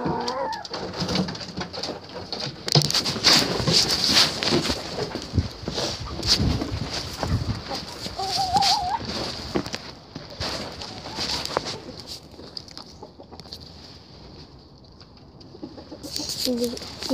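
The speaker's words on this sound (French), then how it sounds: "Donc ça, c'est la nouvelle poule." Hens in a coop cluck and coo among other birds, with a dove-like cooing and busy scratching and shuffling noises, fairly close and lively, quieter toward the end before picking up again.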